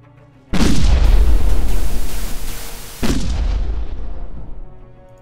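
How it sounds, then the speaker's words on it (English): Two heavy gauss cannon blasts in the video game StarDrive 2 boom about two and a half seconds apart, each followed by a long rumbling decay. "Gauss cannons away!"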